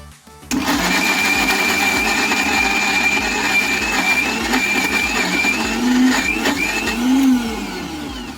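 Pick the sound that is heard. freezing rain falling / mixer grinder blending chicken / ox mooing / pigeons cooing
mixer grinder blending chicken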